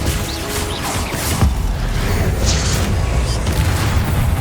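Glacius freezing spell cast in the Hogwarts Legacy video game, a loud whooshing, crackling burst amid dense, continuous combat noise with booming impacts throughout.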